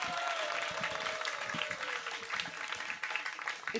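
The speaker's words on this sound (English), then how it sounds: "Let's give another big round of applause" An audience claps in the garden of the Govindaji temple in Jaipur during a Kartik pilgrimage gathering, with moderate, sustained applause alongside a steady drawn-out tone and some voices.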